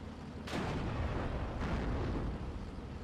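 Tank gunfire in the WWII strategy game Steel Division: two heavy booming shots about a second apart, each a broad burst that decays into a rumbling, busy battlefield background with no talk.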